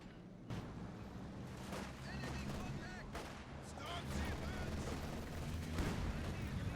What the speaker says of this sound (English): Sis barrage huge on the Ostruppen, forcing them away